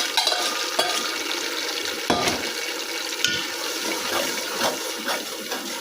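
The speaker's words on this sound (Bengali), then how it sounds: "এবার আমি দিলাম আদা আর রসুন বাটা, এটা একসাথে ভেজেছে।" Ginger and garlic paste frying for a raw mango pickle gives a steady, close hiss with a few sharp clinks and scrapes of stirring throughout, no voices.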